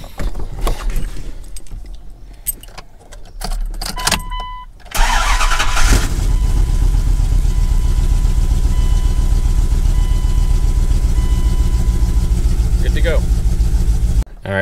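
A Dodge Dakota R/T, just fitted with a new crank position sensor, cranks loudly and steadily for about nine seconds without catching, after a few quieter clicks and a faint warning chime.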